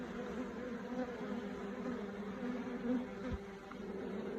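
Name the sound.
bees buzzing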